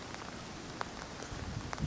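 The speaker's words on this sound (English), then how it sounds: "when it's on a cool day like this, when it's raining, when the wind is going" Rain falls outdoors in a yard on a cool, windy day, a faint, steady patter with scattered light drops and no voices.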